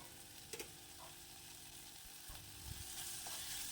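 Chopped tomatoes with a little salt softening in a pan on the stove for a coconut milk rasam, a faint, low sizzle with a few soft stirring knocks, quiet and without talk.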